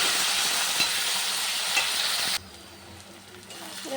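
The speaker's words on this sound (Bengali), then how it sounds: "এই পেঁয়াজটা দিয়ে দিচ্ছি" Onion is tipped into hot oil already holding cinnamon, cloves and cardamom, with potatoes fried earlier for a goat head curry, giving a loud, steady close-up sizzle that drops abruptly to a softer, quieter fry partway through.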